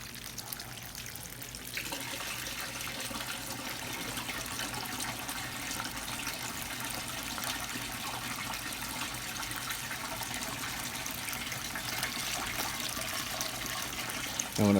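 Water bubbling steadily in a silicone mat fluid bed used to soak up clay for gold sluicing, a continuous soft gurgling wash that carries on alone, with a small knock at the very end.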